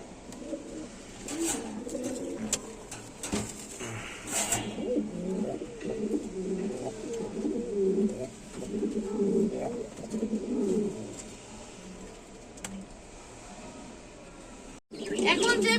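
A breeding pair of pigeons in a pigeon-selling setup coos in repeated low, rolling phrases, close and clear, under someone talking, fading near the end before a sharp knock.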